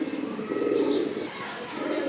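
Breeding pigeons of a large-headed hammer type cooing softly in a loft, a single low throaty coo rising in the middle of the clip over quiet background hum.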